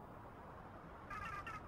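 A cat in a scary video game gives a short, faint meow near the end of a quiet stretch, heard alone with no talk.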